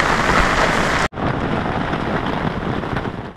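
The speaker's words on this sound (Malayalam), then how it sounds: "ഭയങ്കര മഴയാണ് കേട്ടോ." Heavy rain pours during an elephant safari at Jaldapara, a loud, dense wash of noise broken by a sudden momentary cut just after the first second before it continues steadily.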